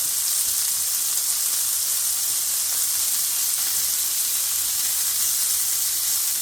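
Steak for Swiss steak fries in a pan with a loud, even sizzle that hisses steadily from start to finish, with no voices over it.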